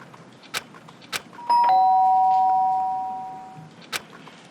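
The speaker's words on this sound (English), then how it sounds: "The sharp sound of the doorbell pierced my sleepy haze and pulled me back to the real world." In the video game Danganronpa: Trigger Happy Havoc, a doorbell gives a single loud, clear two-tone chime that rings out and slowly decays over about two seconds, amid faint periodic ticks.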